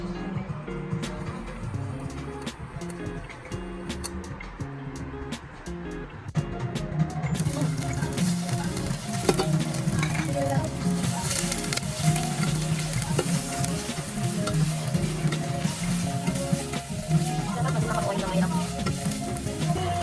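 Onion and garlic sautéing in oil for squid adobo, a steady sizzle with stirring that grows louder and denser partway through, close and continuous.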